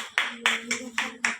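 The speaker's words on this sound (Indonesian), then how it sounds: "Tepuk tangan dulu untuk kelompok satu" Students in a classroom clap for a group that has just finished presenting, five or six distinct, fairly loud hand claps in an uneven rhythm, close by with a faint hum underneath.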